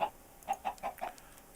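Chickens in Minecraft give a few short, soft clucks in quick succession, faint against a quiet background.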